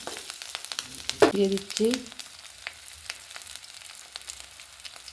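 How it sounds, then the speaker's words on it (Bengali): Ginger paste stirred in hot oil after whole-spice tempering for a Bengali village stalk-and-potato dish gives a soft, steady sizzle with scraping, under a short stretch of talk. "এবার এতে আদা বাটাটা একটু নেড়ে চেড়ে, কাঁচা গন্ধটা চলে যাবে, নেড়ে চেড়ে নেবো।"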